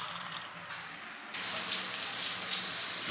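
Shower water running steadily in a home bathroom in Costa Rica, starting abruptly as a loud, continuous hiss and spray after a quiet moment, with no talking.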